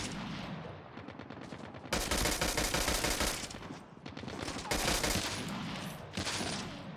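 Rapid bursts of automatic gunfire crackle in long volleys, loud and dense, with brief pauses between strings of shots, in the video game Call of Duty: Mobile.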